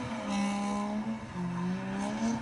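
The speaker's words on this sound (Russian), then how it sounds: "Опять такая же перекладка вялая с отпусканием газа." Car drifting with the throttle lifted, the engine note holding a droning hum that sags and shifts in pitch as revs drop, steady and moderately loud throughout.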